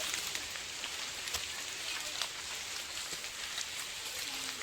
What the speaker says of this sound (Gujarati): સારો વરસાદ છે તો સારો વરસાદમાં પણ મજા આવે છે